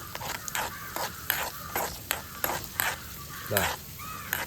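Raisins and cashews being stirred as they fry in a pan, a steady sizzle with repeated close scraping strokes of a spoon, about a dozen, and a faint high squeak near the end.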